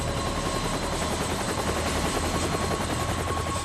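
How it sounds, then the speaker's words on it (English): A rescue helicopter hovers near a cliff above a beach while its hoist is lowered, giving a loud, continuous rotor thump and turbine whine, close and steady with no voices. "The helicopter hovers dangerously close to the cliff"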